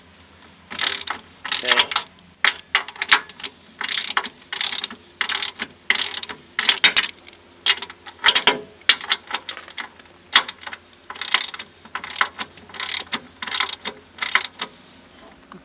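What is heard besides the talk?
19mm socket ratchet working on a Sovema EM 272 finish mower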